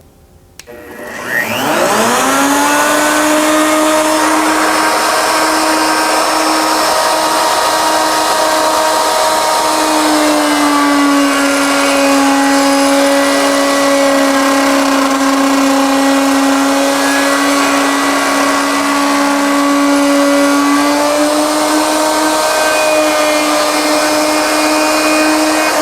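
A router cuts a barley twist candlestick from wood stock, a loud sustained high-pitched whine that spins up at the start and holds steady with slight pitch shifts as it cuts.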